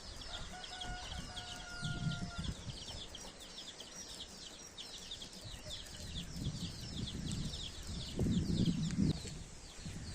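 Several chickens cluck softly nearby in short bursts, with a few louder low clucks toward the end, amid faint background chirping, as they are moved into a henhouse.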